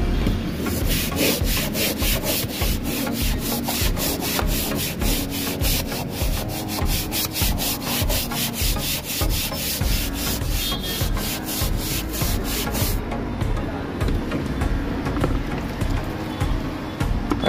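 A brush with detergent powder and water scrubs the interior of a Volkswagen car, producing continuous rhythmic rubbing strokes, close and steady, with a brief softer change late on.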